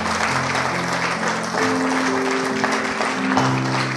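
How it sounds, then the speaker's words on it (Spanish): A church congregation claps for the Lord at the end of a Spanish-language service, steady applause filling the room over sustained organ or keyboard chords. "¿Por qué no le da un aplauso al Señor?"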